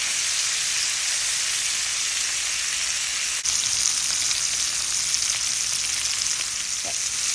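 Lamb chops pan-fry in a cast iron skillet on a stove, producing a loud, constant hissing sizzle like heavy rain, with a brief jolt midway as they are shifted; no talking.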